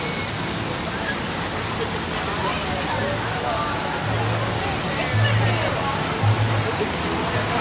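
Rushing water roars at Dollywood theme park in Pigeon Forge, a dense, loud, continuous wash of splashing spray that fills the whole clip with no voices heard.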